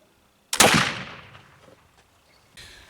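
A single loud black powder gunshot at an outdoor shooting test, a sharp close blast with a long rolling decay, followed by faint rustling.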